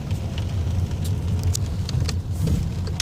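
Car with a DSG dual-clutch gearbox driving in second gear, a low steady engine drone heard from inside the cabin with faint ticks and rattles over it.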